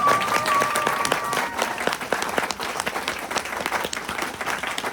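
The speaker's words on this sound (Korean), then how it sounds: "박수 부탁드립니다." A live audience claps steadily at a Korean-language seminar, with dense, even applause holding for the full stretch and no voices over it.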